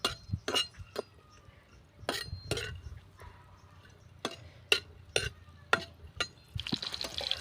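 Bitter gourd pieces with softened onion are sautéed in a pan, with a series of distinct metallic clinks and scrapes from the stirring spoon over a faint low sizzle.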